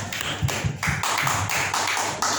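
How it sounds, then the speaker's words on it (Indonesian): Church congregation clapping at a service, a run of distinct, fairly close claps in a loose rhythm over a steady room background. "Tepuk tangan buat Tuhan kita."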